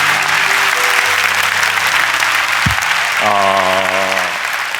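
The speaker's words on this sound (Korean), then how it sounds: "우리 큰 박수로 격려하고 축복했으면 좋겠습니다" Steady audience applause from a church congregation fills the whole stretch, broad and continuous, with a faint tonal hum and a brief thump partway through.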